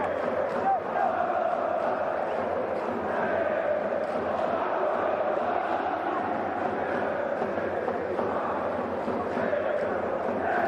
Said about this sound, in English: Had plenty of reasons to cheer in the early season, these Napoli fans. Has been buzzing.